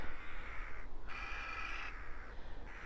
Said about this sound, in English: the birds are making quite a racket today